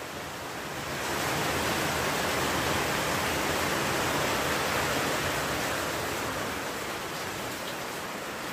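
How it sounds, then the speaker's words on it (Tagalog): Sudden heavy rain falls on a rural work site where a pigpen is being built, a dense, even hiss that swells within the first second and holds loud and steady throughout, with no talk. "Biglang-bigla ang ulan."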